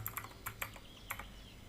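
Quick bursts of keystrokes on a computer keyboard while setting up a business email domain record, close and clear, with irregular clicks clustered in short runs.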